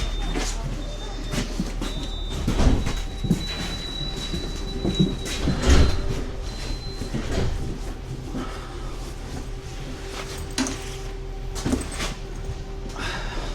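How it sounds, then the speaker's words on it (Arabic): Interior ride on a city tram in Poznań, Poland, in winter: a steady low rumble of the moving car with repeated rail clunks and knocks, a thin high squealing tone, and some faint voices in the background. "دخلنا الترام،"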